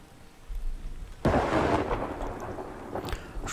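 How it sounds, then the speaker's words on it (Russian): Thunder cracks sharply in the video game Farthest Frontier, a sudden loud clap rolling into rumble over steady rain, with faint later crackles. "Шарахает молния."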